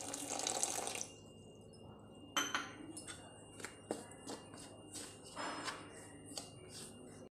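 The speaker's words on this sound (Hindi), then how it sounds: "इसमें और थोड़ा सा पानी डालूंगी।" Water poured into a dough mixture trickles and splashes in short bursts, with a steady running stream and a few drips and clinks in between, close and fairly quiet.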